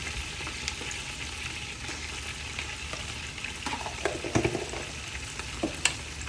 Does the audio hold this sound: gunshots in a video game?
no